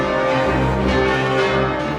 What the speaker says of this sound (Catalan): s'anhela poder tornar a sentir el dolç repic de les campanes